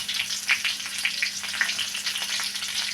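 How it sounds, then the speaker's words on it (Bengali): Cauliflower florets frying in a pan give a soft, steady sizzle with light crackles and occasional stirring sounds, close but fairly gentle, with no voices. "তো কপি ভেজে নিলাম ভালোভাবে।"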